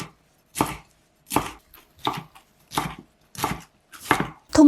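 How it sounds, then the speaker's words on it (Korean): Paprika is cut into small squares on a board, seven crisp knife chops landing at an even, unhurried rhythm with short silent gaps between them, close and distinct. "토마토보다 작은 네모 모양으로 썰어주세요."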